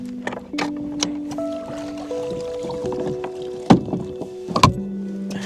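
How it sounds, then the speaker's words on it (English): An electric trolling motor is pulled up on a fishing boat in the Florida Everglades, giving steady whirring tones broken by sharp clunks and knocks as it locks into place. "I'm going to pull this trolling motor up."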